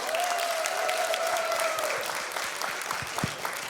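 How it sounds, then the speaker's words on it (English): Audience applause at a sales motivation training session, continuous clapping from a room of people, fairly even and moderately loud, with a faint tonal hum early on. "Round applause."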